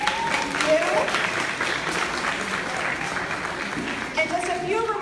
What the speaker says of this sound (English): let's give all those wonderful people a round of applause